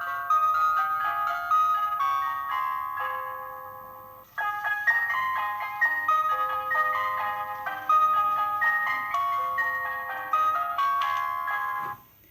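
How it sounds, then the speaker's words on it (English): An ice cream van plays its chime tune, a bright electronic melody of quick, bell-like notes that pauses briefly midway and then carries on, fairly loud and heard alone. "Do you remember which song your ice cream van played?"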